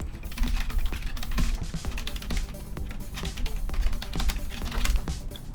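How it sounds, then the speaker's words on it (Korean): Rapid keystrokes on a computer keyboard, dense continuous clicking and tapping heard up close with no talking, steady for several seconds. "타이핑을 하겠습니다."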